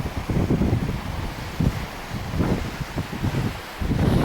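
Wind gusting fiercely outdoors on a hillside walk near Glen Tarkin, Killin, with loud, steady buffeting and rustling against the microphone, rising and falling in surges throughout.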